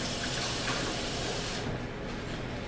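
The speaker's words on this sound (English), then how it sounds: "And then, wash my hands real quick." Hands washed under running water in a home kitchen during lasagna making: a loud, steady hiss of flowing water that eases into a softer rush partway through.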